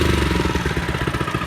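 A 25-year-old Honda HR215 lawn mower engine runs steadily just after a pull start, a close, loud, even putter with a rapid regular chug and no talk over it.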